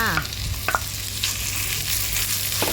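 Minced pork hitting a hot pan with fragrant garlic and yellow chilies, a loud continuous sizzle with a few scraping stirs of the spatula, close up and with no voices.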